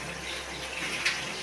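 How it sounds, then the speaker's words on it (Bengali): Matar paneer gravy bubbling in a pan, a soft continuous simmering hiss heard up close and faint, with no talking. "ঝোলটাও ফুটে গেছে।"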